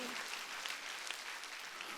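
A church congregation at a Sunday worship service claps hands together, a dense, continuous patter of many palms heard fairly close and steady throughout.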